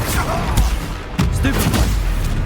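Bombarda explosion spell in Hogwarts Legacy, a series of booming blasts and impacts amid chaotic combat noise, loud and dense, with a voice shouting over it.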